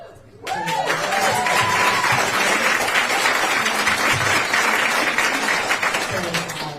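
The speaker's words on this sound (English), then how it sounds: "Thank you for the applause" Town hall audience in a US congressional district erupts into sustained applause that starts abruptly and holds steady and loud, with voices and shouts mixed into the crowd noise.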